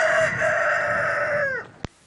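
A rooster crows once at dawn in a village in the Aurès mountains, a long clear drawn-out call at moderate distance that trails off, followed by a brief sharp knock.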